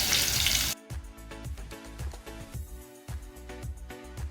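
Cumin, finely chopped green chillies and ginger-garlic paste hit hot oil for a Maharashtrian broccoli stir-fry. A loud burst of sizzling comes first, then settles into crackling and spluttering as the frying continues.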